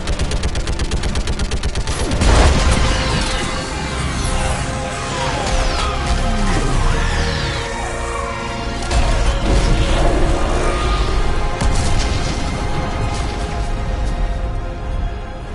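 Heavy battle gunfire in the video game Mass Effect, dense fusillades of shots and booming impacts with crashing debris, loud and sustained across the whole stretch.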